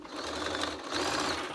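Sewing machine stitching a cloth face mask, a steady close motor whir with the needle's rapid chatter running continuously with brief dips in speed.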